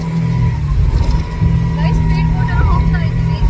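A speedboat ride at sea near Phi Phi Island, Phuket: a loud, close engine drone with wind and water rush, and people talking over it.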